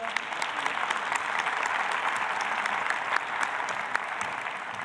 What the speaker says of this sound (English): A great applause for them, please.